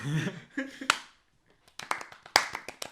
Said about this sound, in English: We're gonna do a clap to the exit, so we can sync up the exit as well